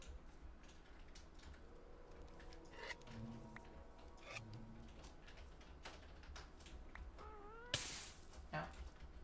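A Minecraft kitten gives a few short, bright meows near the end, over soft clicking and faint background sounds.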